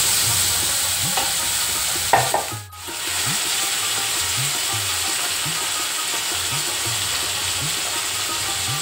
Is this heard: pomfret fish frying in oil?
yes